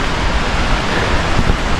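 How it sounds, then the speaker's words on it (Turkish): Matucana's waterfall pours strongly, a loud, dense, continuous rush of water close by that fills the whole space without pause. "Şelale şurada."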